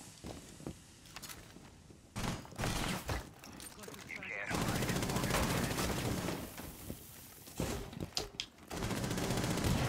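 Rapid bursts of gunfire from a video game shooter, with sharp repeated shots and footsteps, loud and dense in clusters, then a long sustained barrage, with a player talking underneath at times.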